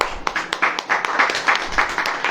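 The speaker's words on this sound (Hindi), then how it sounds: "ताली बजेगी कि नहीं?" An audience claps together at a Christian sermon gathering, a quick uneven patter of many hands ringing out loud and close for a couple of seconds with no voices over it.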